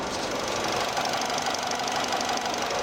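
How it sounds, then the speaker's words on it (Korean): A Samsung New SM5 car engine idles close by, a steady ticking rumble with a light knocking texture, constant and unbroken for the whole stretch. "우선 엔진 소리 한번 들어보면"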